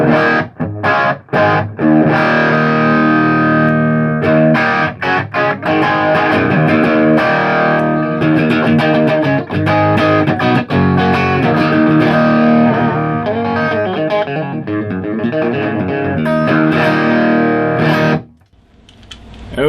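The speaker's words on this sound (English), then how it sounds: "You can hear just more like a mild crunch sound." Electric guitar played through a Crate GX15 solid-state amp with mild crunchy distortion, strummed chords and single notes ringing loudly, ending in a sudden cutoff.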